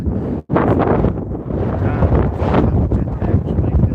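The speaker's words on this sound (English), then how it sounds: "That was a good gust of wind." Strong gust of wind buffeting a phone microphone outdoors, a heavy low rumbling blast that drops out briefly near the start, then roars on continuously.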